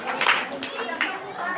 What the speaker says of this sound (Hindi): इसलिए आप लोग तेज ताली के साथ परमेश्वर को धन्यवाद दीजिए।